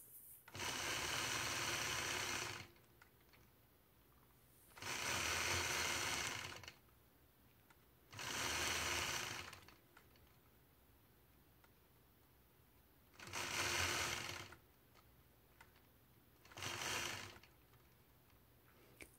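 A sewing machine quilts angular lines across a Grinch quilt block, running in five separate bursts of rapid, even stitching with quiet pauses between as the ruler is moved.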